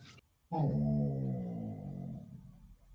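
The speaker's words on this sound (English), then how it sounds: "That is the loudest dog I've ever heard." A dog lets out a loud, drawn-out whining howl that starts abruptly after a brief pause and holds steady for a couple of seconds before tapering off, with no talking.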